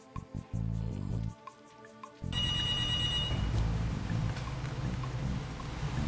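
A telephone line rings after dialing an internet cafe: a few short dial clicks and beeps, then a quiet gap, then a steady ringing tone that continues through the rest.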